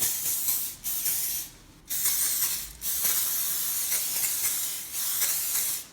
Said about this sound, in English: I'm just going to spray my 2 cookie sheets with non-stick spray.